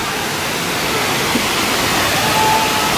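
A waterfall at Janet's Foss in the Yorkshire Dales, heard from near the top, makes a loud, continuous broadband rush of falling water that stays steady throughout.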